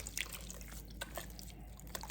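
Water sloshed and stirred in a bowl while rinsing homemade butter, soft liquid drips and trickles close by, quiet and intermittent with no talking.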